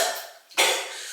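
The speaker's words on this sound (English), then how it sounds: "Some of us are coughing." Two quick coughs ring out, a faint one followed by a sharper, louder bark, against a quiet background.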